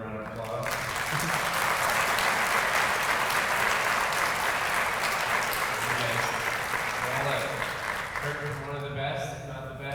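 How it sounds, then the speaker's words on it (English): An audience claps for Dr. Lederman, a dense, sustained round of applause filling a hall that swells and then thins out near the end, with a voice faintly audible underneath. "Let's give another round of applause."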